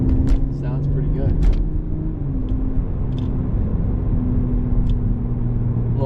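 A stock 2021 Toyota Supra 3.0 engine and exhaust hum steadily while driving, heard from the cabin, with a few short sharp clicks early on and a soft voice underneath.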